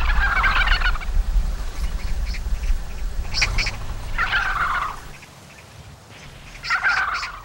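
Vultures living in a crowded flock squabble over food handed out by people. Harsh, raspy squawking bursts come in three or four loud clusters over a low rumbling background.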